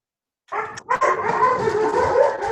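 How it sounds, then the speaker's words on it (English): A neighbour's dogs bark loudly in a sudden burst that becomes continuous frantic barking, starting after a short silence and staying close and harsh to the end. "I hate those dogs. They're not my dogs, and they go crazy."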